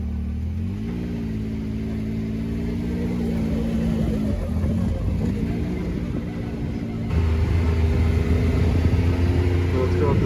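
A 2021 Can-Am Maverick Max RS Turbo RR off-road side-by-side on a trail, its engine droning steadily and then rising louder as it accelerates, with the rumble close by throughout.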